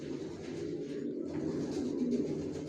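Racing pigeons coo steadily inside a breeder's loft, a low, continuous burbling chorus of several birds close by, with no speech.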